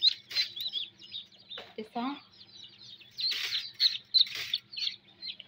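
Newly hatched ducklings peep and chirp in a hatching incubator, a busy stream of high, close cheeps with a few lower warbling calls, while a man counts aloud over them.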